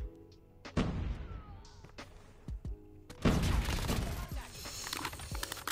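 Pistol fire in Call of Duty Mobile, sharp separate shots standing out against game effects and background noise, with the player talking briefly.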